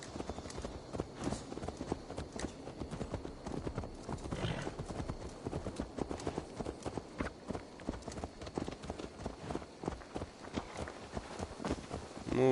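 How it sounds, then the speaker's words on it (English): Horse hooves clip-clop at a walking pace in the video game Assassin's Creed Valhalla, a steady close rhythm of hoof falls with faint speech and game ambience underneath. "Let's return the horse."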